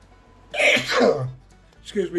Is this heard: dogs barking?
no